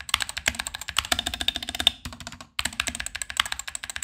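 Fast, continuous clacking of keys on a Kraken gaming keyboard, typed in rapid bursts with a brief pause midway, close and clear with no voices.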